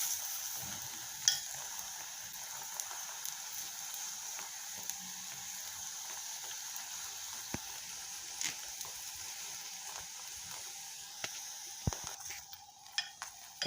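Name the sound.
pumpkin chapati cooking in a pan on the other side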